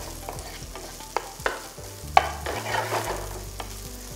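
Onion sautéing in a pan over a slow flame, soft sizzling under scraping stirring strokes with a few sharp clinks of a utensil against the pan, close and fairly quiet.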